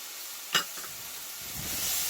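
Sauce and chilli hit a hot stir-fry pan with a sharp burst of sizzle, then settle into a steady frying hiss, close and alone.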